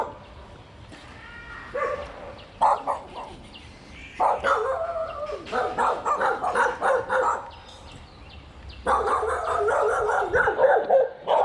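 A pack of village dogs, some of them stray, barks and yips in the Temuan tribe village of Bukit Lanjan, Petaling Jaya, in loud overlapping bursts with short quieter gaps between them and a few whimpers.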